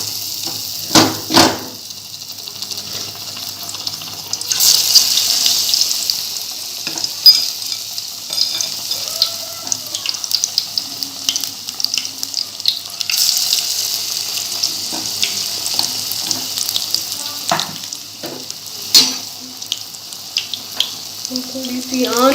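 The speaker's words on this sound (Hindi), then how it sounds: "अब हम इसमें एक एक करके ऐसे पकौड़े डालते जाएंगे।" Potato pakoras dropped one by one into hot oil, a steady close sizzle and crackle that swells in bursts as each piece goes in, with occasional clinks, and no talking.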